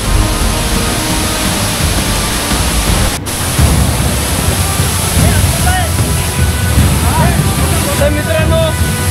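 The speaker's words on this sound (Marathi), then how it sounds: "इथे समोर आहे वॉटरफॉल. जबरदस्त प्रेशर आहे मित्रांनो." A powerful monsoon waterfall at Lonavala roars as a loud, steady broadband rush of water for the whole stretch, with a brief dip in the middle.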